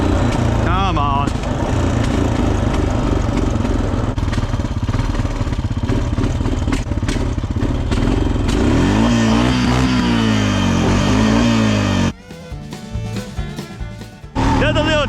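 A Honda Foreman 450 four-wheeler engine roars loud and close while riding over rough ground, revving and dropping steadily, its pitch sweeping up and down before easing off near the end.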